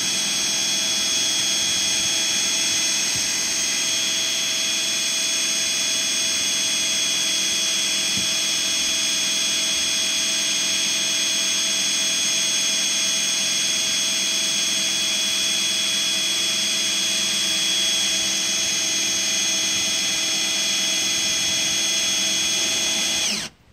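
A steady, high-pitched power-tool whine runs without a break, close and loud, from a drill driving a small pump transferring water through a small hose into a storage tub, then cuts off abruptly.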